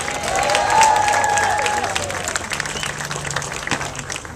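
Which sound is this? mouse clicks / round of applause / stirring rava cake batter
round of applause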